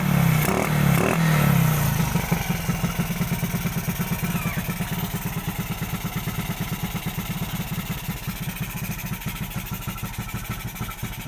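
Stock-engine motorcycle fitted with an SWR 28mm big carburetor runs loud and close, its exhaust throbbing in a steady, rapid pulse for the whole stretch with no talk over it.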